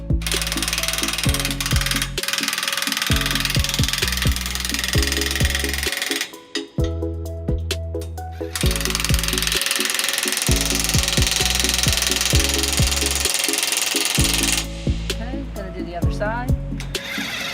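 Bolts being tightened on a front mount hitch on a 2010 Toyota Tundra: loud, close whirring bursts of a power tool, starting and stopping repeatedly with short pauses between runs.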